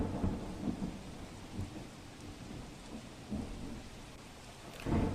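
Heavy monsoon rain in Veraval, Gir Somnath, pours down in a steady, dense hiss, with low rumbles of thunder rolling in and out and a stronger close boom near the end.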